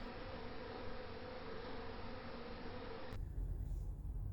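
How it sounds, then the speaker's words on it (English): Dense honey bee swarm arriving at a bait box, heard as a steady, close buzzing hum that fills the air, shifting abruptly in tone partway through. "This is a swarm arriving to this very bait box 2 years ago in 2020."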